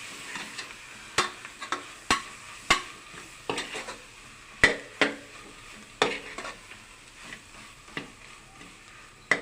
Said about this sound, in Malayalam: ഉടച്ച് വെച്ച ഉരുളക്കിഴങ്ങ് ഇതിലേക്ക് ചേർത്ത് നല്ലവണ്ണം ഇളക്കുക